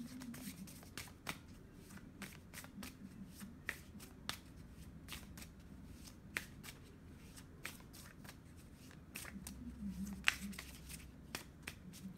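Tarot cards are shuffled and snapped softly close to the microphone, a steady run of riffling flicks and light taps that carries on through the whole passage with no voices.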